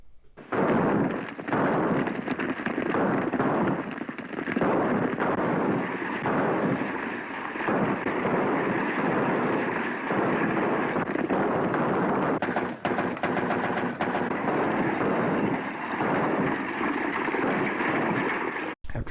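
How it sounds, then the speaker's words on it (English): A western film shootout chase, with a dense, loud, continuous wash of gunfire, hoofbeats and action noise running without a break. "Then we head into a major shootout chase."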